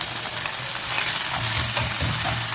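Cumin seeds, about two grams, fry in hot oil for a potato masoor dal, giving a steady close sizzle with a faint stirring texture that swells a little midway.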